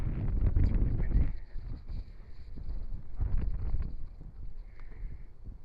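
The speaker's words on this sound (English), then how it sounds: "it's really windy." Strong wind buffets the microphone in rough, uneven gusts around Tennessee Walking Horses, a low rumbling roar that swells and dips throughout, with no talking.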